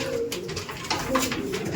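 A pigeon in a loft coos briefly at close range, with low repeated throaty notes and a faint voice underneath.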